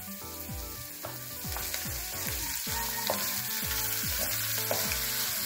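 Tomatoes with garlic sautéing in a pan for pork pochero, a steady close sizzle and frying hiss with rhythmic scraping stirs repeating roughly every half second, no talking.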